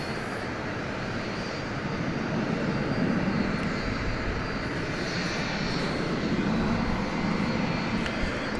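A Boeing 757 jet, a UPS freighter at DFW Airport at night, roars steadily and broadly for the whole stretch, a loud sustained engine rumble with a slight swell in the middle.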